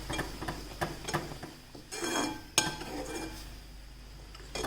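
Hot milk and besan kheer are stirred in a pot, giving faint scrapes and a few light metallic clinks over a quiet room hiss.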